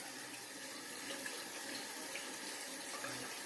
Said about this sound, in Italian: lo strizzo sotto l'acqua in modo che si levi l'eccesso di trucco che ho già tolto